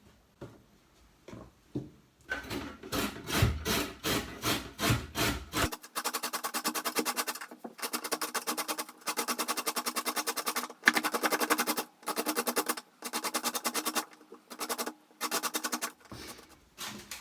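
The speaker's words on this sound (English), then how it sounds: "So I will just grate these." Organic vegetables, unpeeled and topped and tailed, grated by hand in a kitchen: a steady series of close, rasping strokes, slower at first, then fast and rhythmic with brief pauses between runs.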